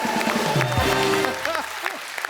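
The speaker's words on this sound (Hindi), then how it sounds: "जोरदार तालियां हो जाए" Studio audience applause on a Hindi TV comedy show, loud and steady throughout, with tonal music stings and background voices layered over it.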